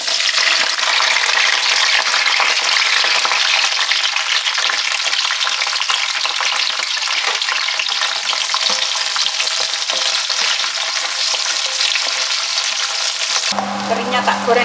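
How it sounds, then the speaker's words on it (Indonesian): Petai beans and anchovies frying in a pan before blending for sambal, a loud steady sizzle and crackle that runs unbroken, cutting off abruptly at the end. "Ini mau tak goreng dulu soalnya aku nggak suka kalau belum digoreng terus di blender ya."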